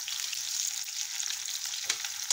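Onions fry in a pan with a soft, even sizzle, fairly quiet and continuous, with a brief stirring scrape near the end.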